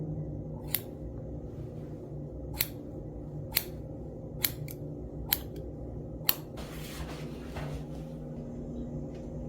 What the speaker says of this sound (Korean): 입술선까지 잘라보도록 할게요